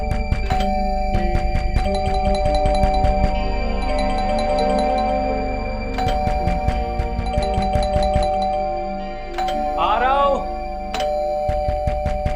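A doorbell chimes repeatedly at a home's front door in an indoor drama scene, its bright ding-dong tones sounding over background music, with a brief voice near the end.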